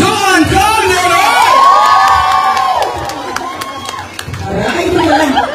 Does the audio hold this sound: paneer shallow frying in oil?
no